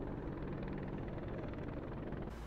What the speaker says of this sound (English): An attack helicopter?